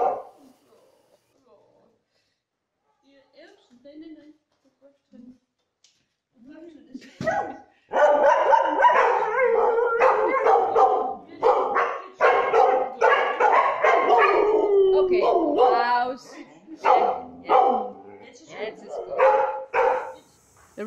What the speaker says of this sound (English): Lola and Mia are always howling when Claudia and Uva leave to go shopping.